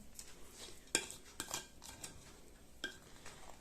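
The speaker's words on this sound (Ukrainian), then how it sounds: "Я замішую ложкою наразі." A spoon scrapes and clinks against a bowl while sticky bread dough is mixed, with a few sharp knocks among softer stirring sounds. No talking.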